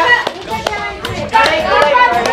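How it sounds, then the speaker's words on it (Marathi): Women at a festive haldi-kunku gathering clap hands in quick, uneven bursts, several sharp claps rising over lively chatter and background talk. "पट पट टाळ्या वाजवा, टाळ्या वाजवा."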